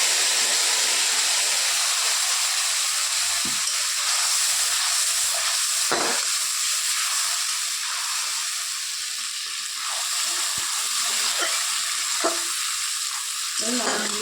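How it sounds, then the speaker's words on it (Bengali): Ground spice paste added to hot oil with fried tempering spices, giving a loud continuous sizzle and hiss close up, with a few faint clicks of stirring and no talk. "তারপরে যে বেটে রাখা মশলাটা এর মধ্যে দিয়ে দিলাম"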